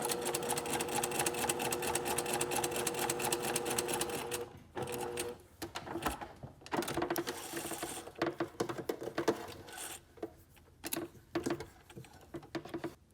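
A sewing machine stitches a gathered fabric section at a 5/8 inch seam allowance. A close, steady whirring run lasts about four seconds, then breaks into short stop-start bursts of stitching.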